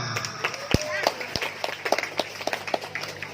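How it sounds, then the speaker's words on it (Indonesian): Scattered hand claps from a small group, brief and uneven, with voices chattering over them. "Tepuk tangan dong."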